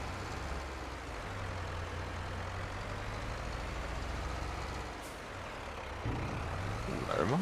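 A tractor drives in the farming video game Farming Simulator 22, its engine a steady, continuous drone held at even loudness throughout, with a brief shift in pitch near the end.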